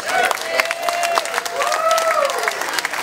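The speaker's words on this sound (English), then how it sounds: "give him a big round of applause, come on." Crowd applause and light cheering at a poolside party during Elvis Week in Memphis, a dense burst of clapping at close range, with a voice talking over it.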